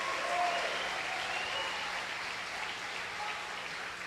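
Congregation clapping in a church service, a steady wash of applause sustained throughout at moderate, somewhat distant level with a faint murmur of voices beneath.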